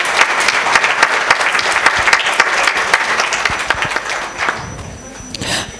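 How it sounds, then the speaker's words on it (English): A large audience at the inaugural session of a tax conference gives a big round of applause, loud and dense through most of the clip, then thinning and tapering off near the end. "Ladies and gentlemen, a big round of applause for Vijay sir"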